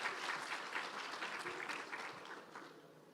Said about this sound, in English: A huge round of applause to both of them.